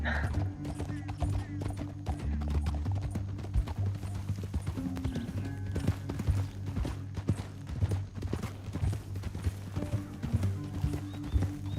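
Horse hooves clip-clop steadily in Red Dead Redemption 2, a rhythmic run of close hoofbeats with an occasional whinny and faint creaking tack underneath.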